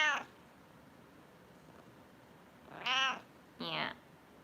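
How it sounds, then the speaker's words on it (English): A half-and-half faced cat meows three times: a short call at the start, then two louder meows close together near the end, with quiet room sound between. "This is the third cat."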